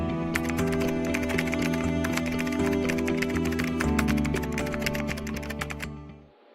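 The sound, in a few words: typing code on a computer keyboard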